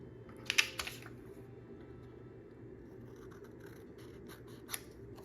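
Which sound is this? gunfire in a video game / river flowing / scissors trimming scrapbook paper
scissors trimming scrapbook paper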